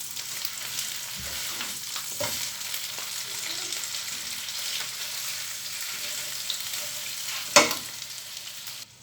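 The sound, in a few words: chicken thighs frying in a pan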